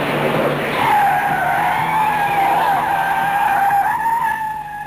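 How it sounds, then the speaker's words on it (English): A car skids through a high-speed handbrake turn, its tires giving a loud, sustained screech that wavers in pitch over a steady engine roar for about five seconds. "He had to chase a van and cut off its escape with a high-speed handbrake turn."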